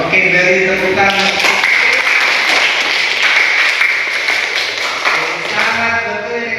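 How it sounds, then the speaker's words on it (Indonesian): Classroom applause, a burst of many hands clapping together, loud and dense, fading slightly toward the end with voices mixed in. "Oke, beri tepuk tangan."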